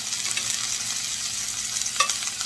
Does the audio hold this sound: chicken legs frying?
yes